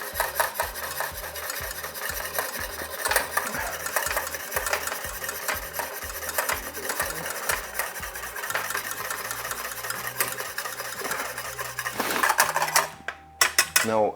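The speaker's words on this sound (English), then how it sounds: "Then you add your egg yolk and straight away you start to stir it." Egg yolks being stirred steadily in a pan for a sabayon sauce served over champagne baked oysters, a close, continuous scraping and rubbing rhythm with light utensil clinks against the metal.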